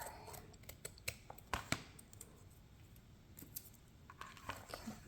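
Scissors snip through masking tape at a curved junk journal spine, a series of quick crisp cuts in small clusters, faint and close against a soft background.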